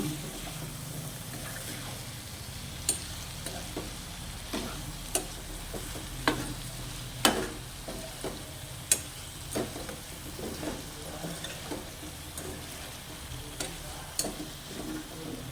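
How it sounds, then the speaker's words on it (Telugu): Eggplant pieces sizzle and stew in oil in a pan for spiced eggplant rice, a steady close frying hiss with scattered pops and crackles throughout. "ఆయిల్లోనే మగ్గాలి."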